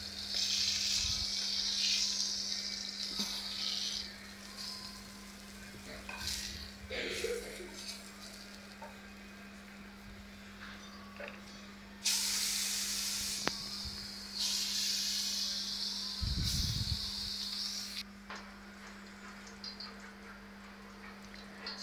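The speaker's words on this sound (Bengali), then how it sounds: "উঠিয়ে এখন বাকি যে মাছগুলো আছে ওগুলো দিয়ে দিব ভাজার জন্য" Pieces of katla fish sizzle and hiss in hot oil in a pan, in intermittent bursts of spitting with louder surges, over a constant low hum and occasional clatter.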